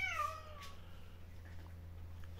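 A big stray cat gives one clear, close meow right at the start, followed by a quiet stretch with only a low steady hum.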